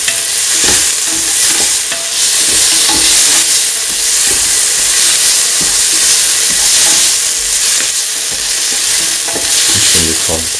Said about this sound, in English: Mixing it all together to the mixture.